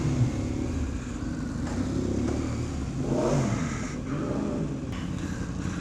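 A loud motorcycle exhaust rumbles steadily nearby, swelling in a throaty rev partway through before settling back to a heavy drone.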